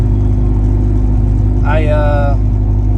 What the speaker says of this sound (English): We took the exhaust off, and the drone is kind of really bad in here